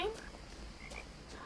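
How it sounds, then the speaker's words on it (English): Frogs croaking in the What Remains of Edith Finch video game, a brief faint outdoor chorus of croaks under ambient sound. "You can hear like the frogs."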